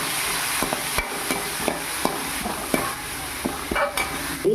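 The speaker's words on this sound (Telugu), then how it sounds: "వీటిని ఇప్పుడు కట్ చేసి మనం ఫ్రై చేసుకోవాలి." Cut green chillies frying in hot oil for tempering a Rayalaseema uggani, a steady close sizzle broken by repeated sharp taps and scrapes of a stirring spoon against the pan.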